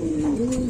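A Lahori-type fancy pigeon on a pigeon farm gives a single close, clear sustained coo that holds steady, loud and alone, with no talk over it.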